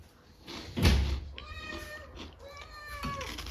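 A cat meows near a thump like a door or cupboard, with a drawn-out cry and a second shorter meow, set among people chatting in a home where a dog and two cats are present.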